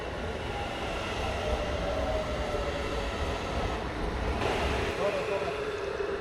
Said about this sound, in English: And then we even stop to let another train pass.